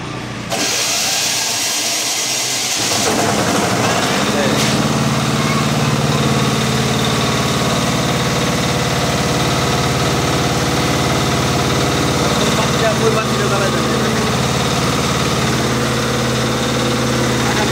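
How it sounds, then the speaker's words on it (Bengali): A five-kilowatt diesel generator cranks and starts, then idles with a steady, loud mechanical drone and vibration that holds evenly, no voices. "আমরা জেনারেটারটা চেক করে দেখাই দিলাম"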